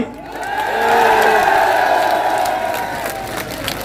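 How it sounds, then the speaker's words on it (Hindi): A rally crowd cheers and claps, a loud dense roar of voices and applause that swells and then slowly fades. "हाथ खड़े करो, ताली बजाओ जोरदार"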